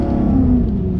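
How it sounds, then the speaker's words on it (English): Supercharged 720 horsepower VF Maloo V8 idling close by with a deep, steady rumble, holding a sustained low engine drone for the full second with no talk. "today we've got ourselves a 720 horsepower Maloo."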